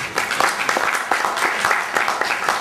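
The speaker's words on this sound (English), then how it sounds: "let's give ourselves a round of applause" Audience at a film screening in a research library gives a steady round of applause, dense clapping heard fairly close throughout.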